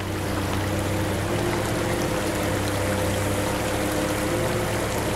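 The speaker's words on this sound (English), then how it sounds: "Hermony sewer, raw sewage flowing in the creek." Raw sewage pours from a sewer into a Pennsylvania creek, a steady close rushing trickle with a constant low hum, no voices.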